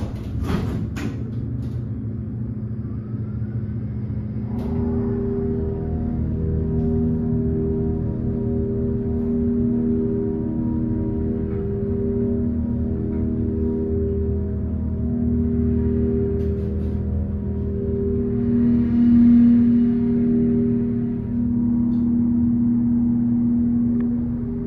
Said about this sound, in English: listen to this motor